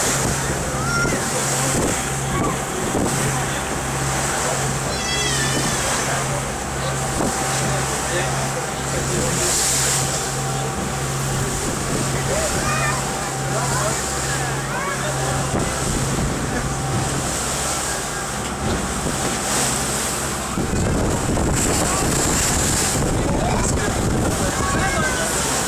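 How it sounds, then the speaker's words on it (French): Sea waves slosh and splash steadily against a moving boat, mixed with engine drone and gusts of wind buffeting the microphone. "Il commence à y avoir des vagues."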